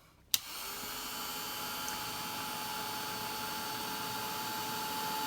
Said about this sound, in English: I'm about to put the heat tool on